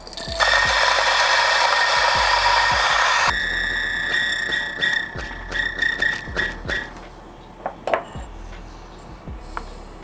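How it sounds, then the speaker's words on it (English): A DF64V coffee grinder with SSP burrs grinding espresso beans, giving a loud high motor whine for about three seconds that stops into a run of close mechanical clicks, taps and knocks. "I'm going to grind one more set of espresso, see how it goes."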